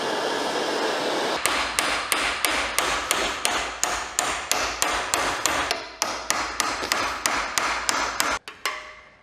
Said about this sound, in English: We're gonna lube up the new one and hammer it in.